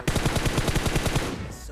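Automatic gunfire in PUBG Mobile, a rapid burst of about a dozen evenly spaced loud shots that then fades.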